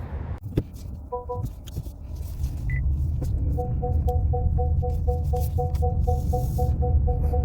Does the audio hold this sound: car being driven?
yes